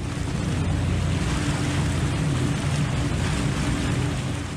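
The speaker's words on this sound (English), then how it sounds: "The M30 BEV is an aluminum-hulled boat powered by two diesel engines." Aluminum-hulled M30 BEV boat with two diesel engines driving water jets, a steady loud wash of water and engine rumble with wind buffeting the microphone, no voices.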